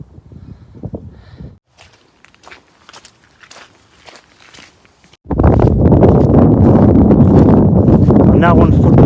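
Strong wind gusting across an open footpath in Northumberland, first a few soft buffets and quiet footsteps, then a loud, continuous roar of wind hitting the microphone that lasts the final few seconds.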